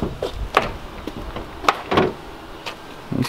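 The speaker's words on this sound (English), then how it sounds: "So you have to open the door for these." Car door on a Honda Civic with a turbo B-series engine being worked on, heard as a handful of sharp clunks and latch clicks spaced irregularly, close and fairly loud, with no talk.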